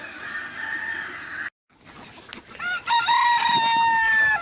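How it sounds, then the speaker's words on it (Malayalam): Chickens on a farm in Al Baha, Saudi Arabia, with a brief gap before a rooster crows loudly and close, alongside steady clucking and fowl chatter throughout. "പുല്ലാണ് ഇവിടുത്തെ മെയിൻ കോഴികളുടെ തീറ്റ"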